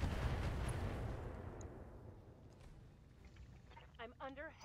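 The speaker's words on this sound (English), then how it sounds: "I'm under heavy fire." Heavy weapons fire from battling mechs in the video game Battletech, a booming broadband blast whose rumble slowly fades, followed by a voice speaking near the end.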